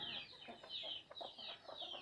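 Free-range chickens cluck softly and repeatedly while eating native pearl millet on a farm raised the natural way, faint and close, with scattered pecks under the calls.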